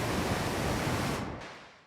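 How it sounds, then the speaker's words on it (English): Steady pink noise from a Diva software synthesizer hisses loudly with a bass-weighted rush, holding evenly before being cut off and decaying away near the end. "Pink noise is kind of the same thing, but weighted towards the bass."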